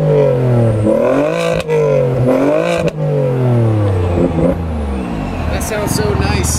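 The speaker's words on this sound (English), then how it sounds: "Give me a couple revs." An Audi wagon's engine revs hard several times at a Formula Drift event, loud and close, the pitch sweeping up and down over a sputtering idle, with a crowd and a PA audible underneath.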